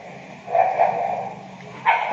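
A dog barks a few short yips and woofs at a moderate distance, in small bursts separated by brief pauses, with no one talking.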